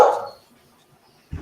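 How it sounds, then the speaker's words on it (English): Hellhounds guarding a labyrinth in a tabletop game let out a single short bark-like burst at the start, followed by near silence and a brief low thump at the end. "the hellhounds guarding the outside of the labyrinth that are barking in your direction"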